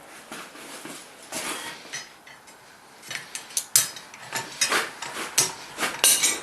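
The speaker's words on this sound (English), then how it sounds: "Now as I'm riveting" A hot rivet is hammered to join the two halves of forged bolt jaw tongs, giving a run of sharp metallic strikes at an irregular pace that grow louder and quicker toward the end.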